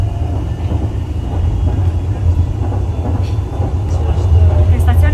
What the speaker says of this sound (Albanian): Jemi te treni që varet.